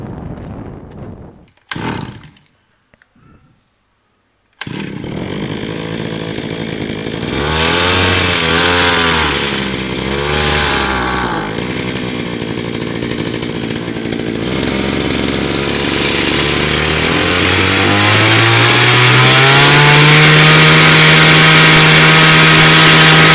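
A Japanese tea-harvesting trimmer with a small 32 cc two-stroke engine is pull-started after a few cord tugs, then revs and settles into a loud, steady, rising buzz close by.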